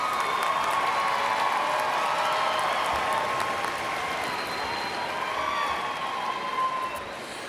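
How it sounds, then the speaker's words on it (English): A crowd applauds honor graduates at a high school graduation, steady dense clapping with some cheering, loud and sustained throughout before easing slightly at the end. "round of applause"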